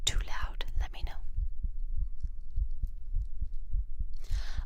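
ASMR heartbeat recorded on a binaural 3Dio microphone: a slow, steady, deep thumping pulse running throughout, with soft whispering at the start and again near the end.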